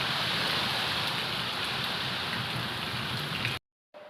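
Heavy rain pours down during a storm, a dense, even hiss of drops hitting surfaces that stays loud and unbroken before cutting out abruptly near the end.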